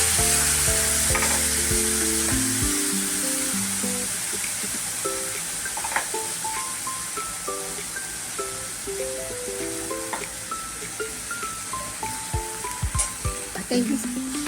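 Hot oil tempering in a pan sizzles and crackles loudly as tamarind water and salt go in for besan bhurji, the hiss easing into scattered pops and spatters while a metal spoon stirs now and then.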